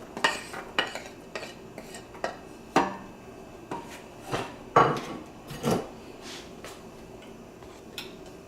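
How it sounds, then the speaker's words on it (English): Ground beef with onions and green peppers being browned in a pan for chili, heard as a spatula scraping and tapping against the pan in irregular clinks and stirs over a faint background, with no talk. "We're gonna go ahead and start by grilling the ground beef."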